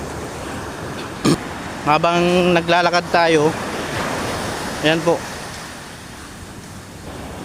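Steady wash of sea waves on the shore at a fishing village in Dinahican, where net fishing goes on, a constant surf hiss under brief speech and a few spoken words.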